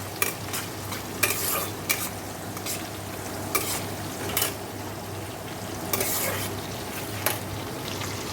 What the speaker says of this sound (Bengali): চলো ভালো করে মাংসের মশলাটা কষিয়ে নিই